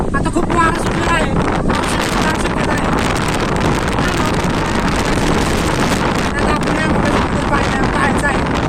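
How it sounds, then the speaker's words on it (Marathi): Strong wind sweeps over Sakhargad fort, a loud, unbroken rumble and gusting that batters the microphone for the whole stretch. "आता खूप वारा सुटलेला आहे."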